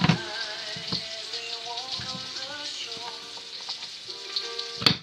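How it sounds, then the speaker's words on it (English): Mushrooms sizzling in a frying pan for a homemade vegetable dish, a soft steady crackle with a few sharper clatters from the pan and utensil, heard close and fairly quiet. "Okay, going to put the mushrooms in there. Sizzle, sizzle, beautiful."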